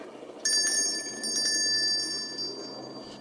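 A doorbell rings with a bright metallic trill, a sustained ringing tone starting suddenly and continuing with a few pulses against a faint background.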